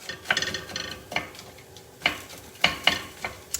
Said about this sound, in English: So we're going to fry them and we want them to look charred.